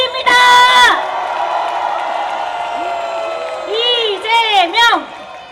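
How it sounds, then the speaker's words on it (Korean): A large outdoor crowd at a political rally on Eunhaengjeong Street in Daejeon whoops and cheers with applause, loud swells of shouting voices rising and falling over a steady roar. "이재명 상임 공동선대위원장님께 다시 한번 힘찬 박수 부탁드립니다."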